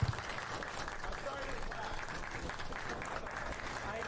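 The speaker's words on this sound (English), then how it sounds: "I believe that was Ricky Starks who started that clap" Audience applause fills a Starrcast VI wrestling convention panel, a sustained, dense clapping from a crowd that begins with a brief sharp burst and holds steady and fairly loud throughout.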